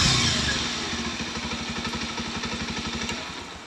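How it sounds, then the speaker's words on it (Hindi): Bajaj Pulsar 125 motorcycle engine running just after a self start, a steady close idle with rapid even firing pulses and a slight fade in level, no talk. "और अभी अगर आप देखेंगे बाइक बिल्कुल सेल्फ से स्टार्ट।"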